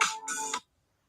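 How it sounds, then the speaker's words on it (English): A phone ringtone sounds loudly in two bursts of bright, tonal chiming, stopping abruptly after about half a second as the phone is muted, followed by silence. "I'm gonna just mute my phone."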